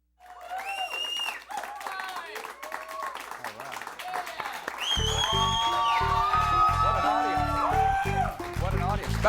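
A late-night talk show studio audience breaks into applause and cheering that swells and grows louder, heard under bright music while a host speaks over it.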